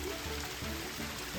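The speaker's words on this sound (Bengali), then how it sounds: "এই তো জলের সাপ্লাই, একটা বালতি বসানো আছে, সেখানে জল এসে পড়ছে।" Spring water fed by pipe from a forest stream on a mountainside pours steadily into a bucket, a continuous close splashing trickle with no voices.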